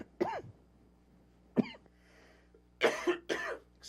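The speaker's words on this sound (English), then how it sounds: "I have a terrible cough." Several harsh coughs close by, a single one, a pause, another, then a quick cluster of two or three, with a hint of throat clearing.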